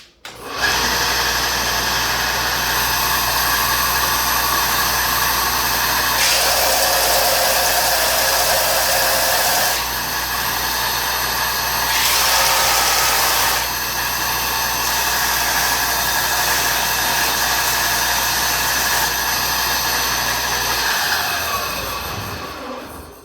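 Power sander grinding down a wooden handle for a kit knife, a steady loud whir held for about twenty seconds with slight shifts in pitch as pressure changes, then cutting off.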